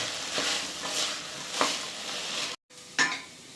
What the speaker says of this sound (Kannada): ಇದನ್ನು ಚೆನ್ನಾಗಿ ಹಸಿ ವಾಸನೆ ಹೋಗೋವರೆಗೂ ಫ್ರೈ ಮಾಡೋಣ